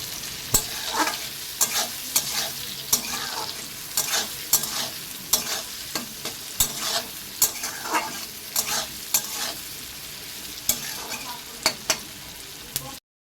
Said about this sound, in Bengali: পেঁয়াজটা একটু ভাজা হতেই দিয়ে দিলাম টমেটো কুচি